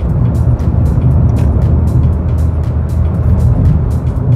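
A 2025 Suzuki Swift Hybrid with a 1.2 Z12E engine accelerates uphill in fourth gear while overtaking. A steady, loud interior engine and road drone holds throughout, with repeated faint high ticks.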